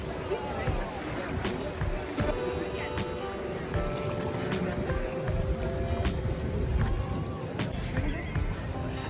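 Boat ride on Fateh Sagar lake in Udaipur at sunset, with a steady wash of water and motor noise running throughout and voices talking over it.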